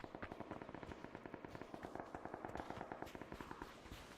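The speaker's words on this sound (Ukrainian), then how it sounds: "там хтось стріляє" Rapid bursts of automatic gunfire in the video game PUBG crackle in quick rhythmic volleys, with a few sharper single shots mixed in, continuous throughout.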